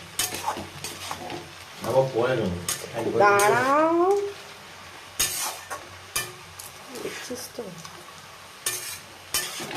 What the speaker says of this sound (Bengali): লাল শাক ভাজা চলছে বাদাম দিয়ে, পেঁয়াজ দিয়ে